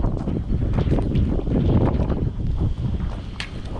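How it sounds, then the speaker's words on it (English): Gusty wind blowing outdoors on a farm, a steady broadband rush with buffeting bursts striking the microphone throughout, loud and close with no talking. "the wind blew my hair all over the place, as you just saw"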